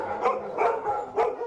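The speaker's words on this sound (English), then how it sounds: "it didn't seem the least bit unusual to be surrounded by 20 dogs" Several dogs bark and yip in a rapid, overlapping chorus indoors, in a home shared by 23 dogs, loud and close throughout.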